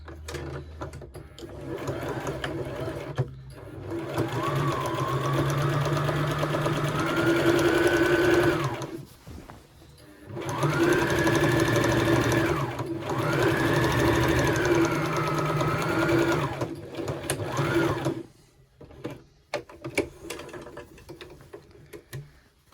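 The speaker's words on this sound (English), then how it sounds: "just doing the stitching on the pocket side only, quite close to the seam that you did" A sewing machine stitches along the pocket side of a tiered maxi skirt, just beside an earlier seam. It runs in two long, steady whirring bursts with a short pause between them, then stops and leaves a few soft handling clicks.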